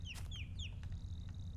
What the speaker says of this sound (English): There's a bird over here.